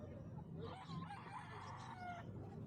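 A rooster crows once at a busy pet market, a clear rising and falling call set against low crowd murmur and background noise.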